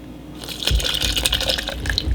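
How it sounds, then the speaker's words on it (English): Water pours and splashes into a blender for a couple of seconds, a close gurgling fill with a few dull thumps. "I'm going to add some of this water"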